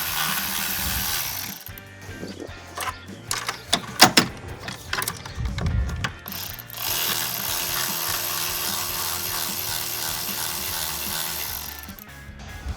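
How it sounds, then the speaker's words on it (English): A large hose clamp is ratcheted tight with a 5/16 driver on a 2015-2017 Mustang V6 cold air intake. Quick ratchet clicks come in short bursts between steady background noise. "And again, our 5/16, we're going to tighten that hose clamp down."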